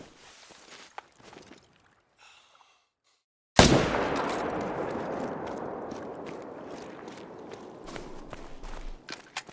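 A single loud rifle shot cracks out in the hunting game theHunter: Call of the Wild on an Alberta map, aimed at a black bear. A long, rolling echo fades behind it, preceded by quiet movement sounds.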